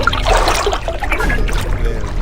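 A water glob splashing in an Ouya video game: a short, wet sloshing and trickling burst of game sound effects, fairly loud and close, lasting about two seconds with no speech over it.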